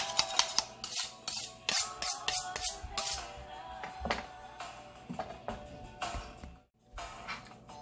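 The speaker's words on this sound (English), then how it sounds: "I also have a peeler, which I am using at this moment." Vegetable peeler stripping skin from a butternut squash, a rapid series of crisp scraping strokes in an uneven rhythm, close and fairly quiet, with short pauses between.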